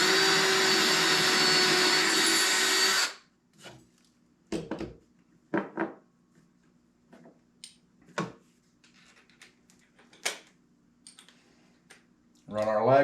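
A lag bolt is driven into a whitetail buck's skull while building a European mount, giving a loud continuous whirring drill-like run for about three seconds, followed by scattered handling clicks and knocks, then another brief burst at the end.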